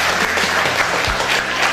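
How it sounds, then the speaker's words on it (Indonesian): A classroom of students applauds a student group after a presentation, dense close clapping that runs throughout with a faint hum beneath. "kita kasih aplaus buat Minta dari kelompok"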